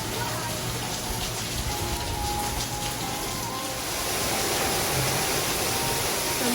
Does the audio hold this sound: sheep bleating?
no